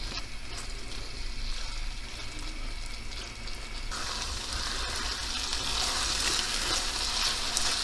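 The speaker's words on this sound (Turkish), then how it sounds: "Mantar kavurmamız gayet güzel oldu. Tam istediğim gibi kavruldu." Chintar mushrooms sautéing in a pan with salt, black pepper and chili powder, a steady close sizzle that grows louder and brighter halfway through, with no talking.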